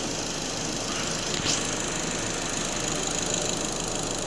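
A Seat Altea 1.6 TDI diesel engine runs steadily at idle, a dense continuous rumble with an even knocking texture close at hand and a brief louder swell partway through.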